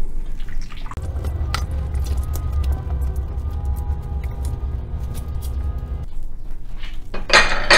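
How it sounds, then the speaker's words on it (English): Beef stew ingredients being stirred in a crock pot, with wet sloshing and repeated clinks and taps of a utensil against the pot, then a brighter burst of clatter near the end. "We're just going to do a little stirring to make sure"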